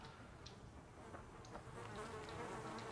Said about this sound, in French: Ah, il y a des mouches partout quoi.